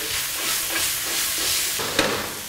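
Shrimp sear in a hot pan with a steady, dense sizzle and hiss throughout, close and fairly loud, with a brief clatter near the end.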